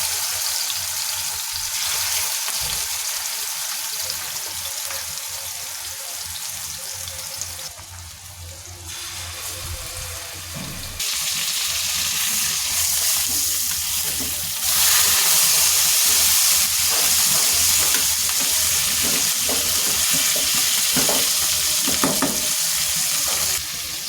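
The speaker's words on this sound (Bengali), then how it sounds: "মাছগুলো আমি এখানে ভেজে নিলাম মশলা করে।" Spice-coated fish fry in hot oil with a steady, fairly loud sizzle that swells and crackles across the whole stretch, punctuated by occasional stirring knocks, with no talking.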